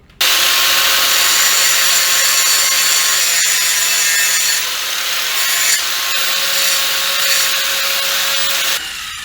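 Sharpening the end of a wooden shaft for a homemade hoop fish stringer, a loud continuous abrasive grinding and rasping that runs steadily for about nine seconds with slight shifts in pressure, no talking.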